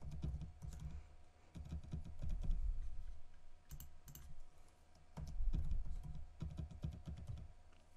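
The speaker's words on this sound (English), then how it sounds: "So here you need to type your username." Someone types a username on a computer keyboard while setting up Linux Mint in VirtualBox, with quick bursts of close, light key clicks separated by short pauses.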